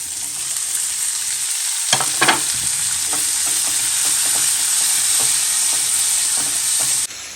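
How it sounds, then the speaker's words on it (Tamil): Onion and a large tomato sizzle steadily as they are sautéed in a pan for ayira river-fish curry, a dense continuous frying hiss with a few brief stirring scrapes near the start and no talk. "இதை வந்து மீன் குழம்புல அரைச்சி ஊற்றுறதுக்காக வணக்கிட்டு இருக்கேன்"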